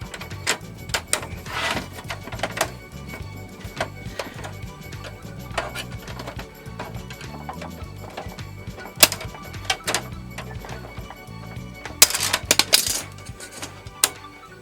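Someone pries apart the plastic casing of an Xbox 360 Slim console, making a series of small clicks, snaps and scraping rattles at close range, with a few louder cracks of clips releasing near the end.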